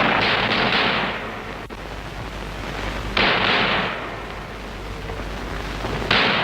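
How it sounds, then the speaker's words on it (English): Gunfire at a London mews flat in 1962, a few loud, booming bangs spaced a few seconds apart over a constant heavy rumble, harsh and distorted like an old or reconstructed recording. "Seven shots are fired at the Wimpole Mews flat of Dr. Stephen Ward."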